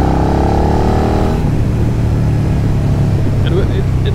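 A Suzuki SV650 motorcycle engine hums at 50 km/h in fourth gear and then picks up as the throttle opens, a low steady drone with rising pitch, loud and close.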